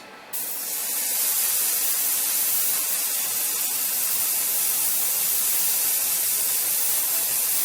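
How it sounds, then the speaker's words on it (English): Airbrush spraying Mr. Color 61 Burnt Iron lacquer onto the afterburner cans of a Hasegawa Egg Plane Blue Impulse plastic model kit, a steady close hiss that starts abruptly and runs continuously with no talk. "what I'm doing next is airbrushing Burnt Iron, Mr. Color 61, onto the afterburner cams"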